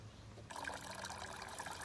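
Water running down the drain of a bathtub set up as a worm farm, a gurgling trickle that starts abruptly and then flows steadily, fairly faint.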